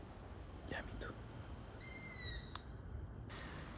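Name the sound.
owls hooting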